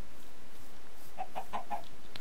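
Minecraft chickens clucking in the video game, a quick run of four short clucks in the second half, quiet and close against near silence, with no talking.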